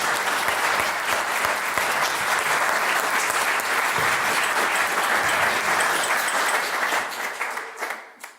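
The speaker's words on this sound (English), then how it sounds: "can we clap it up for that?" A startup networking event audience breaks into full, dense applause that holds steady, with a few close claps standing out, then fades away near the end.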